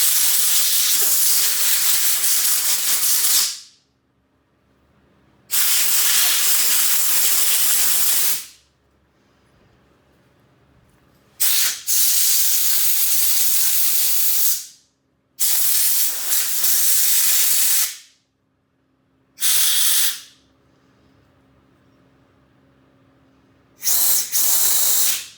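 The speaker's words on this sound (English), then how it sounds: "Now let's get this crusty carburetor blown." Bursts of compressed air blast through a crusty carburetor from a Honda push mower wrapped in a rag, sounding as loud, close hissing blasts that each last a few seconds, separated by short quiet gaps.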